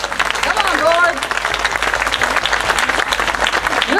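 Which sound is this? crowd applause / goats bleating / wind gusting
crowd applause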